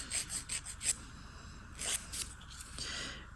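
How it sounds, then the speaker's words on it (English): Nail file rasping across short fingernails during a dry manicure, a few quick close scrapes in bursts separated by brief pauses. "This is why I'm filing them short."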